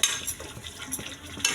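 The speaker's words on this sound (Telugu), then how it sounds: "కొంచెం పసుపు, మసాలా కొంచెం కలర్ వచ్చినంత వరకు ఫ్రై చేసుకోవాలండి" Masala with turmeric frying and being stirred in a pan, a steady close sizzle with scraping and clinking of a utensil against the pan, no talking.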